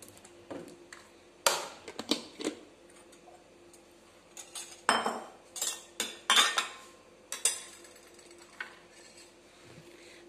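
Sugar and mint are crushed by hand for a mojito, producing repeated sharp clinking and tapping of a utensil against a glass or bowl in irregular bursts, close and fairly quiet with no talking.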